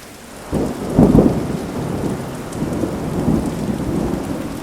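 Heavy rain pours steadily while thunder rumbles and booms loudly near the start, then rolls on under the downpour.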